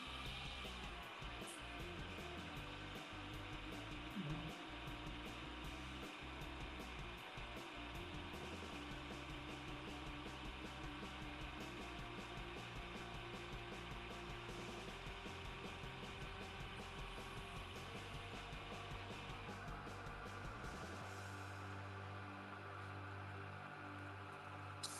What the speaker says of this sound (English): Now we're just sanding away.